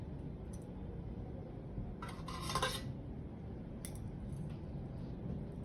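Scissors cut through a clamped umbilical cord during a childbirth delivery, giving a few brief metallic snips and clinks over a low, steady background hum.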